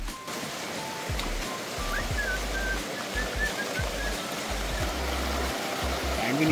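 A waterfall stream rushes steadily on a jungle trek to the Ganpati Gadad caves near Murbad in Thane district, a continuous close wash of water with low gusty rumbles underneath and faint bird calls.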